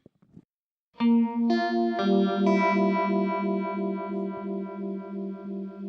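Electric guitar through a phaser pedal giving a classic sweep: a few strummed chords ring out and sustain with a slowly swirling, shifting tone, loud and alone after a brief quiet click.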